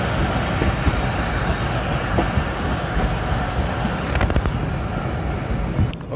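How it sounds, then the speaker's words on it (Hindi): The Allama Iqbal Express rumbles loudly and steadily past Lundo railway station, a continuous close roar with rattling wheel clatter and a few sharp metallic clanks. "10 डाउन अल्लामा इकबाल एक्सप्रेस जा रही है।"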